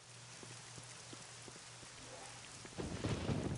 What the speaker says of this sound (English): the pouring rain outside